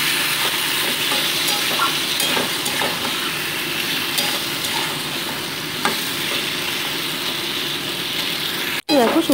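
Flat beans sautéing in a pan with green chili, ginger paste, salt and turmeric give a steady close sizzle, with repeated spatula scrapes and stirring clatters. The sizzle cuts out briefly near the end.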